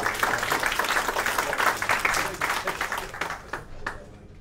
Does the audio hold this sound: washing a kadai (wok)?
no